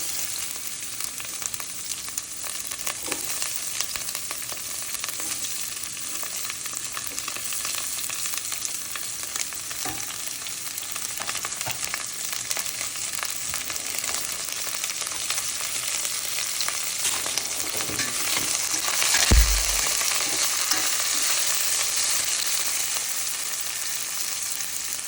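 Thinly sliced onion and curry leaves fry together in a little hot oil, giving a steady, close sizzle with a soft crackle that runs unbroken for the whole stretch and swells briefly near the end, with no talking.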